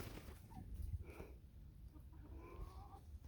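Chickens cluck softly in short, scattered calls at a moderate distance over a low rumbling background, with no talking.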